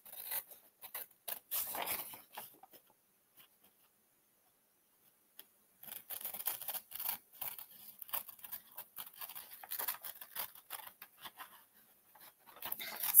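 Scissors snip steadily through paper while cutting out a Christmas sleigh decoration, with a long quiet gap in the middle and then a quicker run of small, close, crisp cuts.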